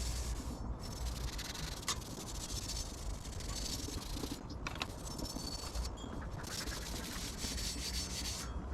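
Steady scrubbing and rubbing on the rusty steel of an 1839 French naval cutlass, a continuous gritty, slightly scratchy friction close by with a few brief clicks and short pauses, no voices.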